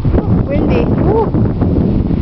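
Wind buffets the microphone in steady low rumbling gusts, with brief voices and a child's chatter over it outdoors.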